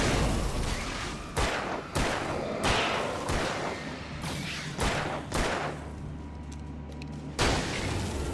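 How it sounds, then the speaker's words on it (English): Repeated sharp bangs from flashbangs in the Xbox 360 game Alan Wake, about eight hard blasts spaced irregularly over a steady low rumble, loud and close with no talk. "I'm gonna use one of these flashbangs."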